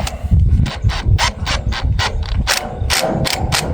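A power drill driving a screw into plastic on a trailer, whirring in a series of short bursts with a rattling, clicking mechanism, loud and close, no voices.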